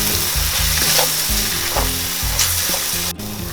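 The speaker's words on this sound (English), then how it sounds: "To this I'll add in my tomato puree. and give it a good mix." Tomato puree sizzling and frying in a pan over ginger and garlic while being stirred for butter chicken, continuous loud crackle with rhythmic scraping strokes of the spoon, no talking.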